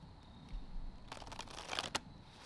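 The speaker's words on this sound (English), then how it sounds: "It means I'm shuffling the cards." Tarot cards are shuffled by hand in a quiet room, giving soft riffling and rapid flicking bursts that build to a sharp final snap.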